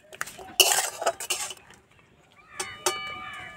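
A metal utensil scrapes and clinks against a pan while turning salt, chili powder and turmeric, a few quick close bursts of scraping followed by lighter ringing taps.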